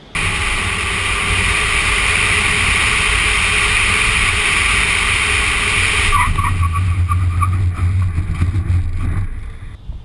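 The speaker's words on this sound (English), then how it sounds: "this emergency braking test conducted at 100 kilometres an hour with a professional driver" A car brakes hard from 100 km/h on a wet road during an emergency stop test by a professional driver, on tyres whose condition is being checked. Loud, steady road and spray noise fades as the car slows to a halt.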